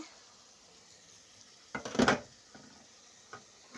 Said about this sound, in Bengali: ঢাকনাটা তুলিয়ে